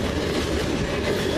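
A CN freight train rolls past in Ladysmith, a loud, continuous rumble of rail cars and wheels close by, with no pauses over the short stretch.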